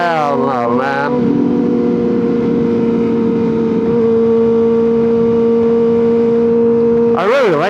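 Honda CBR 600RR motorcycle engine heard up close while riding, a sustained steady drone with a brief gentle throttle blip rising and falling at the start and again at the end.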